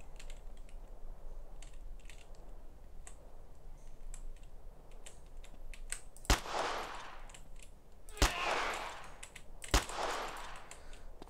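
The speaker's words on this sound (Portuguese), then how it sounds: "Pronto, três tiros, três mortes." Three sharp gunshots in the video game MTA DayZ ring out spaced a couple of seconds apart, each with a brief echoing tail, over a faint low background hum.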